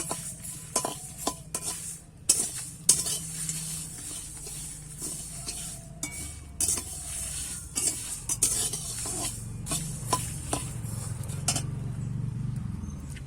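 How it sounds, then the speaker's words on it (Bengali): Black mustard seeds and spices crackle and sizzle in hot oil in a pan while making mango pickle oil, with steady frying hiss and frequent sharp stirring scrapes and clinks against the pan throughout. "মশলা থেকে কিন্তু একটা চটপটে আওয়াজ হচ্ছে"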